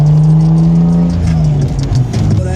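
A Nissan R32 with an RB25DE engine revs hard and loud up close. A steady high drone climbs and wavers, and rough, gritty surges follow toward the end.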